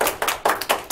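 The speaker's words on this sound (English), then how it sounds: "Round of applause for this young lady." Audience applause at a live local talk show, a brief spell of fairly loud, uneven hand clapping with no voices.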